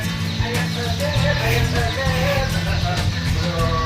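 Several day-old laying-hen chicks cluck and murmur continuously at close range, a busy flock chorus with no talking, around 7 pm.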